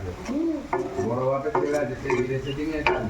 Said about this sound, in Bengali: এবার নাড়াচাড়া করে নিচ্ছি, একটু লেগে যাচ্ছে, একটু সামান্য জল দিয়ে দেবো।